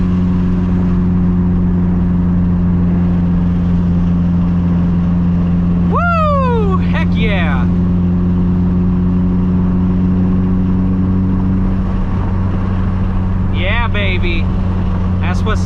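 A turbocharged Mitsubishi Evo 9 MR with a Top Mount 6466 turbo at 26 psi accelerates hard from inside the cabin, a loud sustained engine drone with two sharp rising shift sweeps.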